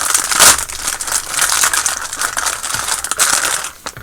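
Plastic packaging bag around a 1/35 scale model tank turret being sliced open with a knife, a steady crinkling and tearing rustle close by, loudest at the start and easing off near the end.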